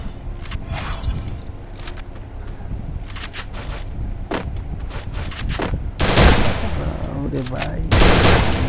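An MP40 Cobra submachine gun firing in the video game Free Fire, sharp bursts of rapid automatic shots in clusters with short gaps, growing louder toward the end, while someone talks briefly.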